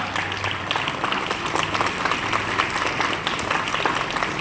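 Schoolchildren applaud loudly at a Republic Day school function, a busy, close crowd of small hands clapping in an uneven, lively patter that carries on steadily throughout.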